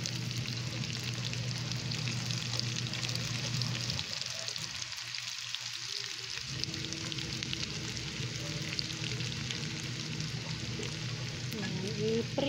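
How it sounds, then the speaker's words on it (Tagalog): Tomato, onion and chili fry in a pan until crispy, giving a steady close sizzle that runs throughout and briefly thins out midway. "Prito natin hanggang crispy siya."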